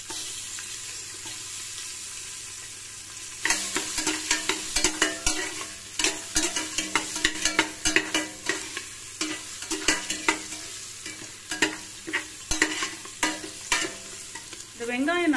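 Small onions sautéing in a pan for bisibelebath: a steady sizzle starts a few seconds in, broken by repeated scraping stir strokes, close and moderately loud, with no talking.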